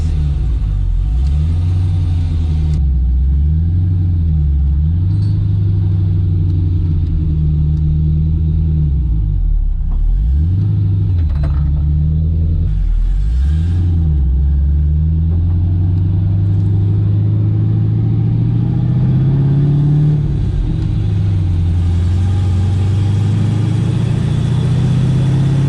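An old Ford Mustang, long parked, drives along with a loud, rumbling engine that rises and falls through repeated gear pulls and throttle changes, steady and close with no talking.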